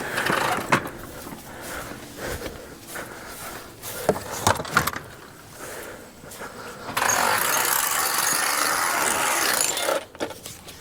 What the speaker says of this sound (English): I'm just going to unfold the awning